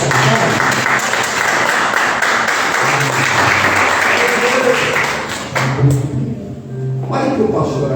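A church congregation claps loudly during a Portuguese-language worship service, a sustained dense round of applause that thins near the end while a voice and low music come through underneath.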